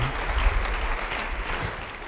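A church congregation applauds with dense, continuous clapping that holds steady throughout.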